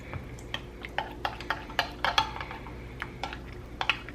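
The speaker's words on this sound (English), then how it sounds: "you're just gonna wanna mix it up." A spoon mixes honey teriyaki sauce in a bowl, with a regular series of light clinks and taps about twice a second, close by against a quiet kitchen background.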